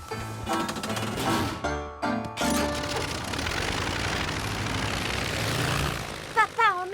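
A cartoon airplane engine drones and rattles steadily for several seconds beneath music and jingling effects, with a voice speaking briefly near the end.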